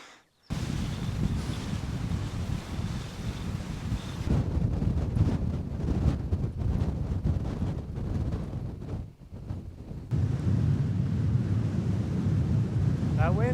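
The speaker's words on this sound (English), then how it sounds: "That wind sure does feel nice." Steady wind gusting against the microphone near a mountain lookout on a remote Montana hike, a loud continuous roar that briefly dips before picking up again.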